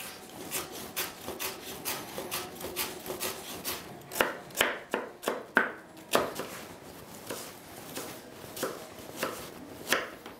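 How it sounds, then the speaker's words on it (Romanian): A knife chops parsnip into small pieces on a cutting board, a steady run of crisp close taps that turns to sharper, louder strokes midway before settling back into quick rhythmic chopping. "să tăiem păstărnacul cu bulețe mici"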